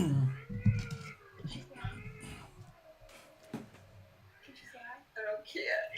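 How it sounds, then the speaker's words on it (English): A cat meows a few times, fairly close, while people talk quietly over and around the sound. "Oh, it's a cat."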